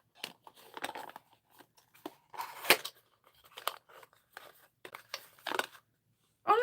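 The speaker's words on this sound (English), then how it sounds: "they're baby scissors." Small baby scissors being handled, giving light snips, clicks and crinkly rustles in short scattered bursts, fairly close and quiet with no talking.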